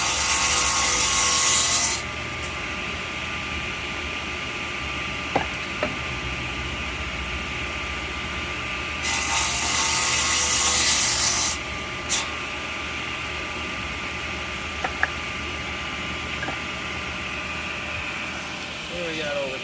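A saw cutting railroad tie stock at a tie mill, a loud harsh broadband rasp in two long bursts over a steady machinery hum, with a few sharp knocks between cuts.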